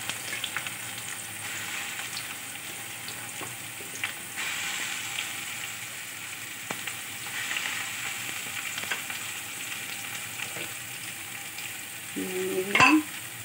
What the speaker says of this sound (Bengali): সবজিগুলো একটু ভেজে নিতে হবে।